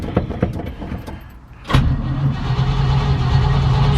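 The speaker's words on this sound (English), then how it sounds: "It's cranking over strong." An old vehicle's engine cranks over steadily on its starter, which has a strong battery behind it but no fuel in the carburetor. A jangle of keys comes first, then a sudden loud, continuous grinding drone.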